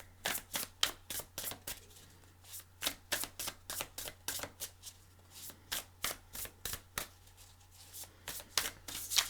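Tarot cards shuffled and drawn by hand, a steady run of crisp riffling flicks and snaps repeating close up and clear for about nine seconds with no talking.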